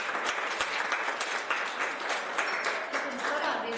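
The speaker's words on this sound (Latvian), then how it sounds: "Vēlreiz aplausus." Audience applause at the opening of the exhibition "Jūrkalne 100", a dense, steady clapping that fills the whole stretch at a moderate level without letting up.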